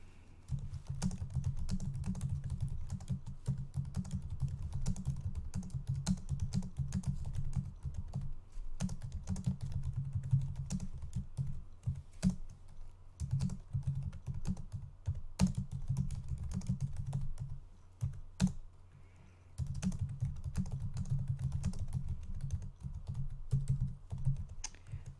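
Steady computer keyboard typing while text is entered into a Google Sites web page, rapid clustered keystrokes in bursts with brief pauses, close and clear with no talking.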